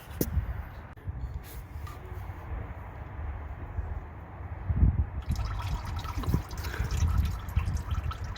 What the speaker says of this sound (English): As you can hear, it's draining into our pan now.